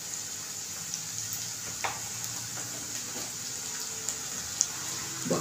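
Onion paste sautéing in a pan for chana masala, a soft steady sizzle with faint stirring scrapes and small clicks, close and quiet.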